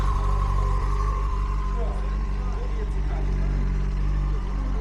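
A Yamaha motorcycle engine idles steadily and close by. The low, even hum continues without a break throughout.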